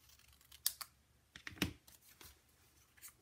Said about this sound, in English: just trim off the paper